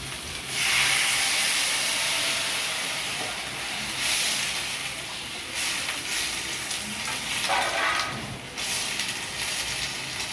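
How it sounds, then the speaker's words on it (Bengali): Water hits a hot pan of ridge gourd and potatoes and erupts in a loud, close hiss of steam and sizzling that slowly settles into a steady bubbling fry. "এবার আমি জল দিয়ে দেবো।"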